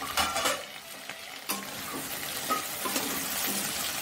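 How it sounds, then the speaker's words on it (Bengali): Potatoes frying in oil in a pan give a steady, close sizzle, broken by a few sharp scrapes and clinks from stirring. "আলুটা ভাজা হয়ে এসছে"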